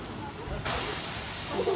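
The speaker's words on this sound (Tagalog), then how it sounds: "Ayan, hugasan na yung sabon" A steady, loud hiss of pressurized water spray rinses soap off a Volkswagen Tiguan at a car wash, rising abruptly and then holding a constant rushing wash over faint background noise.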